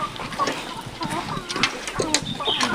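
Several hens cluck and chatter nearby in short, irregular bursts over a busy background at a poultry farm.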